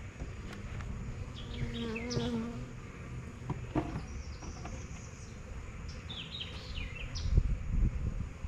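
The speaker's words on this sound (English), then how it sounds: "A lot of bugs up top here." Insects buzz steadily and fairly faintly around a spot outdoors, with occasional louder passes near the listener and a few faint bird chirps in the background.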